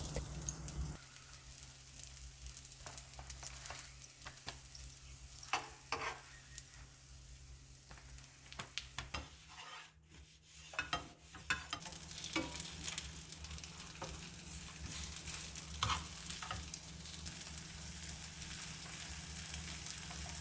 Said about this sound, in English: Put this on frying pan carefully and pan fry slowly until golden brown on both sides.